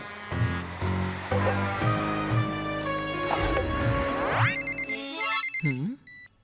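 A telephone in a hotel rings for a call with a loud, close electronic ringtone that repeats its tune, ending in rising chirps and warbling tones.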